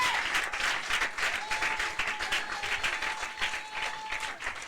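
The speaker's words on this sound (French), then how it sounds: "Acclamons le Seigneur pour l'homme de Dieu." A church congregation applauds at a French-language service, giving steady, dense clapping from many hands that holds at an even level throughout, with a faint tone held underneath.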